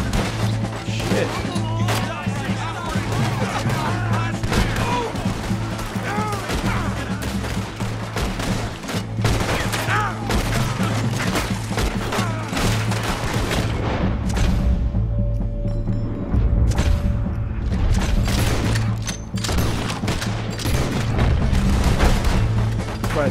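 Cannon blasts and gunfire ring out during a horseback shootout in the video game Red Dead Redemption 2, with dense, loud bursts of shots and booms piling up continuously throughout.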